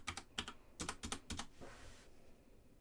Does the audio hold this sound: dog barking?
no